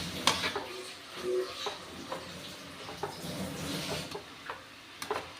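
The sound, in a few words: stirring boiled potatoes into drumstick flower sabzi in a pan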